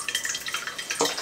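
A thin stream of water runs steadily from a kitchen tap into a sink while dishes are washed, a close, continuous splashing patter with a brief louder splash near the end.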